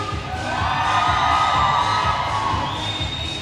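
A roller derby crowd roars for the Saskatoon team, loud continuous cheering with shrill shouts and whoops that stays strong across the few seconds.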